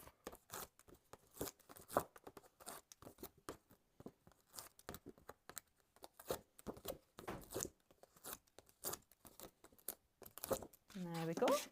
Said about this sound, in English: Grab a little waste basket in here just to peel the backs off.